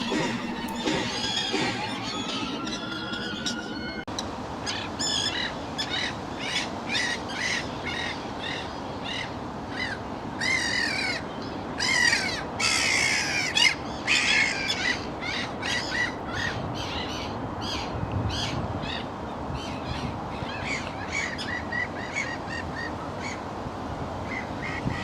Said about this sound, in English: This provoked a general alarm flight from the terns, mobbing the gull in their turn.